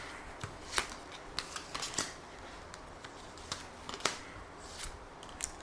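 Tarot cards being shuffled and drawn during a reading, with soft papery riffles and a few sharper slaps spread irregularly over a quiet background, close and fairly faint.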